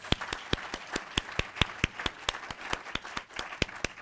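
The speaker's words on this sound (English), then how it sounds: "let's give them a big applause" A sparse, small group claps at a public health event for family members in the room, distinct individual claps in a fairly even rhythm, moderately close.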